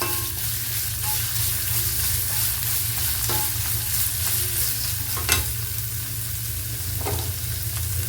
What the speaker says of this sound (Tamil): நெல்லிக்காவை அதில் போட்டுக்கணும். அது நல்லா ஒரு 5 மினிட்ஸ் நல்லா வதக்கணும்.